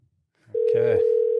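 A phone call rings out during a tennis podcast as the hosts dial a guest. A brief voice is followed by a loud, continuous electronic ring tone that holds steady to the end.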